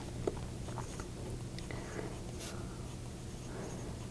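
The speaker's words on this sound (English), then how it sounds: "So, if I write slow, we have no problems writing." A Pelikan M800 Wall Street fountain pen with a broad nib and Pilot Iroshizuku Takesumi ink moves slowly across paper, giving faint scratchy strokes close up over a steady low background hum.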